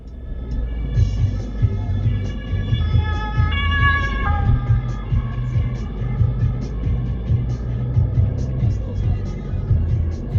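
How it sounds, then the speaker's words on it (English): A German police car siren wails through steady traffic rumble, its rising and falling tones strongest in the middle and continuing fairly loud throughout, with a low engine drone beneath. "What's the normal reaction when you are hearing a police car moving to the right like Ben did?"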